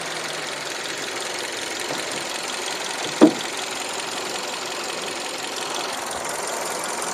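A Kia Rio engine with over 200,000 km on it idles in a steady, even hum, with a single sharp click about midway through.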